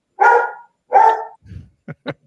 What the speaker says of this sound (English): That's Cujo barking at Bullet.